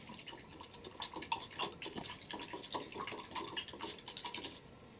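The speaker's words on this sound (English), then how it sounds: "I'm just going to rinse off the brush" Small paint brush swished and tapped in a water cup after a base coat on a miniature, faint close trickling and scrubbing with repeated light splashes in an irregular rhythm.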